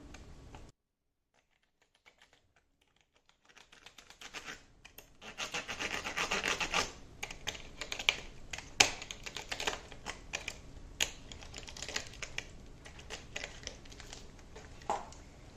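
Tile pieces for a kitchen backsplash being scored with a hand scoring tool against a ruler, a run of close, dry scraping and rasping strokes with sharp ticks after a quiet opening, no talking.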